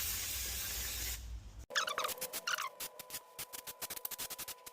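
Quick-drying cleaner sprayed onto a car's brake disc to cure brake noise: a strong continuous aerosol hiss for over a second, then a stop followed by faint irregular ticking and clicking nearby.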